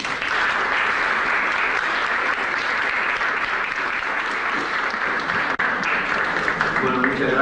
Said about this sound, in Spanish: Con ustedes recibamos con un gran aplauso al doctor Alberto Venegas Lynch.